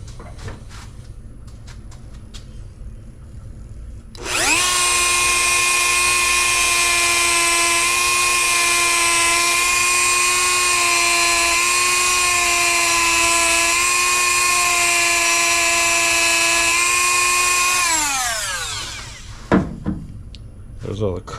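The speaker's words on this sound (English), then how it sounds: "just kind of sand down that one side real quick" A power sander grinds down a truck part from an LS-swapped Silverado, starting abruptly with a loud, high, steady whine that runs for about thirteen seconds before spinning down, with quieter clatter before and after.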